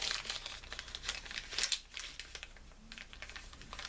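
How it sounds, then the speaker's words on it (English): A paper doily is folded in half and wrapped around a small handmade booklet, giving close, soft crinkling and light papery rustles in a steady flurry of small bursts. "I'm taking the paper doily, folding it in half, and just kind of folding it around the little booklet"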